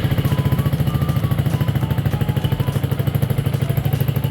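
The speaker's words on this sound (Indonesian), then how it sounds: "jadi mari kita coba nyalakan mesin" A Yamaha R15 V2 motorcycle engine, freshly filled with Motul 5100 Ester oil, idles steadily up close, a rapid even low thumping that holds for several seconds without talk.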